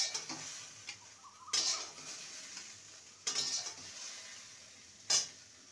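Fried okra being lifted out of a hot pan with a spatula, low background sizzle broken by three sharp metallic scrapes and clinks against the pan, with no talking.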